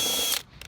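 Power drill driving screws into the wooden frame of a Victorian-style coffin, a loud steady whir that cuts off abruptly, followed by a brief fainter burst.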